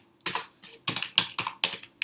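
Bursts of fast clacking keystrokes on a computer keyboard while code is typed in Xcode, coming in several short clusters with brief pauses, close and clear with no talking.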